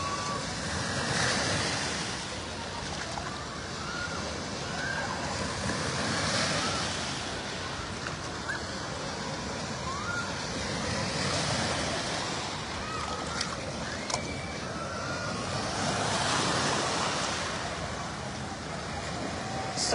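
Waves rolling through a resort wave pool at Seven Seas Resort, a continuous broad wash of surf rising and falling in slow swells, with distant crowd noise and wind in the background.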